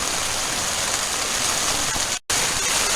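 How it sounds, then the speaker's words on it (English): Heavy rainstorm pouring down outside a tent during a camping trip at Little Gold, a steady dense hiss of rain that continues without pause, broken only by a brief cut near the end, with no voices. "it's raining pretty badly outside"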